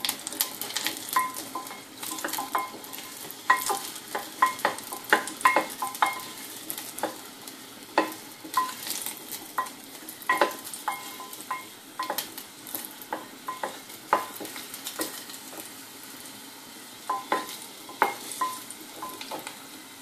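Garlic frying in a pan for whole masoor dal, sizzling steadily while a utensil stirs and taps against the pan in irregular clinks, close and moderately loud, with no talking.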